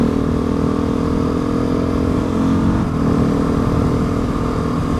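A 701 motorcycle rides along steadily on a coffee run, a loud, continuous engine drone with wind rush and no talking.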